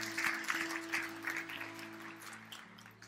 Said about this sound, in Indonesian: Beri tepuk tangan untuk Tuhan kita.